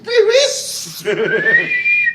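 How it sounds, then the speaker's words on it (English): A person whistles a short, rising tone, close and loud, mixed with laughter and voices in the room. "That was a pretty good whistle."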